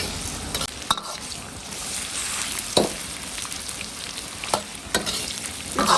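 Pork belly being stir-fried with sugar in a wok, a steady soft sizzle and frying hiss with a few sharper scrapes and clinks of stirring scattered through.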